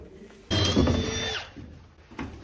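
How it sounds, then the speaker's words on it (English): Power drill boring a hole for a 1-inch water line in a shop/ADU build, a loud close burst of about a second with a rising whine, then tapering off and a short second whir. "So right now we're drilling out for that 1-inch line."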